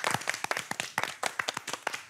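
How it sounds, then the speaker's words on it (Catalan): A small group claps for guests on a podcast, a few close hands clapping in quick irregular bursts, soft but distinct, with no talk over it. "Un aplaudiment per ells, no?"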